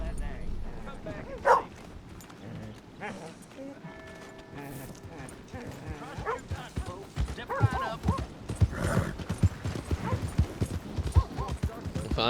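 Steady clip-clop of a brown horse's hooves trotting along in Red Dead Redemption 2, mixed with other game sounds and a dog barking now and then.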